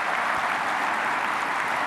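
An audience applauds a speaker onstage, producing an even, continuous roar of many hands clapping with no pauses or talk over it.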